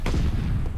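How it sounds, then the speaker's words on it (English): A grenade blows up in the Call of Duty Vanguard multiplayer match, a single sharp, close blast followed by a dense rumbling tail that fills the rest of the moment. "Grenade."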